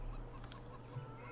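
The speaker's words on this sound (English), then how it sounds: "So our chickens." Chickens on a Farming Simulator 17 farm give a brief, faint burst of clucking over a quiet, low hum.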